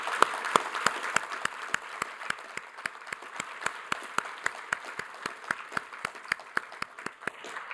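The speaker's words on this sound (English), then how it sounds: "please give them a big round of applause." Steady audience applause at a scientific award ceremony, a dense even patter with a few distinct near claps ringing out regularly, sustained for several seconds without talk.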